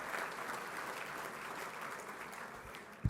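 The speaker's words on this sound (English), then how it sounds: "Philip Brunel, round of applause for Philip." Audience applause at a fundraising dinner honoring a choir director, a steady, moderately distant wash of many hands clapping throughout, with a brief knock at the very end and no speech.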